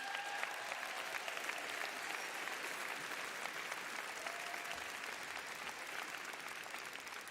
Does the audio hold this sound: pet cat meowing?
no